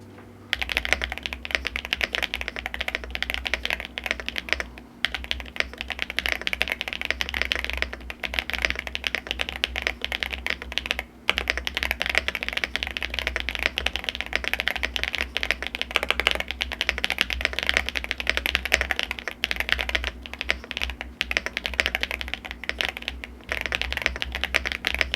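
Rapid, continuous keystrokes on a Yunzii AL75 budget mechanical keyboard, a dense poppy clatter close to the mic that runs almost without pause, broken only by a few brief gaps.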